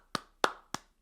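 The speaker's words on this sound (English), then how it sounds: "we just clap whenever Jasmine Crockett speaks" Four sharp, evenly spaced hand claps sound close and clear in a quiet room, each a single crisp slap with a short decay.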